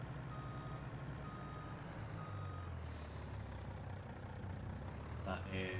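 A truck in Farming Simulator 22 reverses with a steady train of beeps over a droning diesel engine, with short air-brake hisses breaking in near the middle and end.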